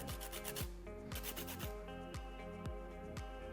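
Lime peel being grated for zest, a steady series of quick rasping scrapes in an even back-and-forth rhythm, close up with no talking.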